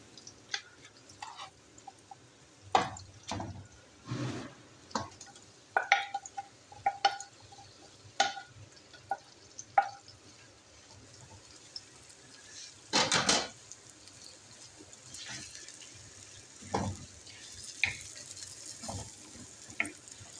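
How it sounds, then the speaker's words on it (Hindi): Bone-in minced mutton keema added to browned onions in a pan for Bihari keema, a soft, fairly quiet sizzle under scattered knocks and scrapes of a spoon against the pan, with one louder burst of frying midway. "अब इसके अंदर मैं कीमा डाल लेती हूँ।"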